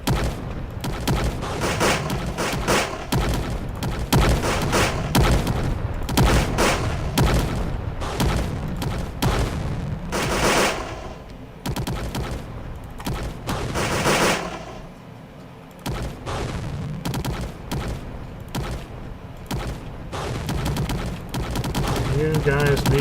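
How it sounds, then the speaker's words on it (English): Video game gunfire in a shooter, dense overlapping bursts of shots and booms running almost nonstop and loud throughout, with a player's voice talking over the action. "You guys need to keep shooting"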